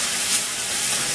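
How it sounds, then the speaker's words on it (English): Coho salmon butterfly fillets searing in hot oil, giving a steady, close, broadband sizzle with a slight swell partway through and no voices. "we're going to sear the fish off"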